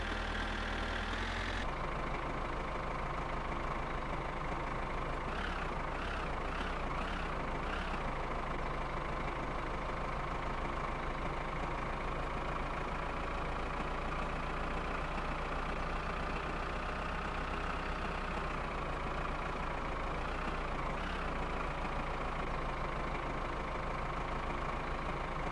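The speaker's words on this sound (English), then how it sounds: "because I don't think I've ever taken the tractor into town." Tractor engine in the My Summer Car video game rumbling steadily on the drive to town, a constant mid-low drone with a few brief rattling pulses and slight pitch shifts as it runs.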